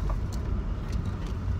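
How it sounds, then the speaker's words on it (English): Steady road traffic rumble from passing cars and other vehicles, a continuous low drone filling the background at moderate level with no talking. "I can't believe how much traffic."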